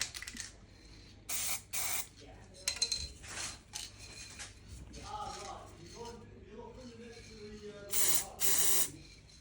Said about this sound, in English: So we can show you the actual spray pattern, the amount of paint that comes out of these.